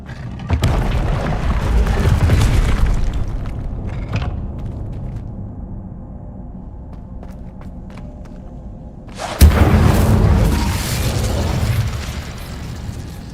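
A fiery Incendio spell blast from a wizard video game erupts as a loud, rumbling whoosh, fading into a low crackling lull before a second sharp, booming burst flares up nearby.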